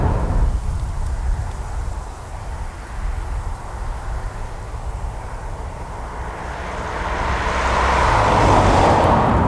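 A 2019 Skoda Superb Scout Combi facelift driving on a countryside road makes a steady interior drone of road and engine noise. The rumble swells louder toward the end with no talking.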